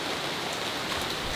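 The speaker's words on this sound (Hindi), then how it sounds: "ये सॉलिड वाली बारिश हो रही है बहुत ज्यादा" Heavy rain pours steadily outdoors in Canada, a dense, even hiss of drops drumming on surfaces, loud and continuous with no breaks and no voices.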